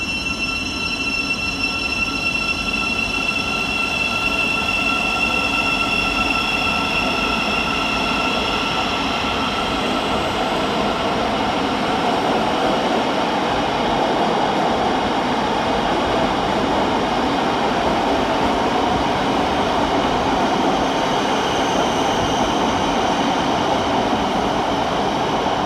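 A Thameslink Class 700 train arriving at London St Pancras, with loud, steady rumble, rolling wheel noise and high squealing throughout, close and continuous in the station.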